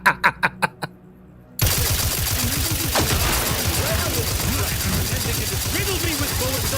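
Gunfire in The Outer Worlds 2 video game, five quick loud shots in a row, then a short pause before a dense stretch of battle noise with overlapping voices and chatter.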